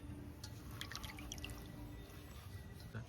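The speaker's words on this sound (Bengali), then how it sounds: "মাছটা এবার ভালো করে ধুয়ে নিচ্ছি।" Raw hilsa fish being washed in water gives off faint, scattered drips and small splashes in a quiet, close setting.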